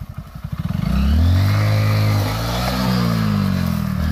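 A Hero Glamour motorcycle engine revs hard during a wheelie attempt, climbing from quick pulsing throttle blips into a loud, sustained roar close by that eases slightly before holding steady.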